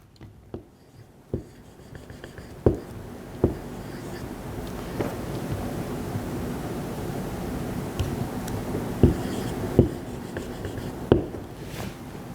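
Chalk or marker taps and strokes on a classroom board as area units are written out, faint scratches with a dozen sharp knocks spread irregularly over steady room noise.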